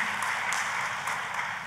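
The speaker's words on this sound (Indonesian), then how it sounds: "Tepuk tangannya boleh paling meriah buat Tuhan kita." A church congregation applauding for God, a dense, steady wash of many hands clapping together at moderate volume, sustained throughout without voices.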